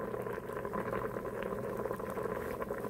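Pinto beans and ham boiling in an Instant Pot on the saute setting, a steady close bubbling and gurgling with a low simmering hum throughout.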